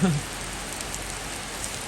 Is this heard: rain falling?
yes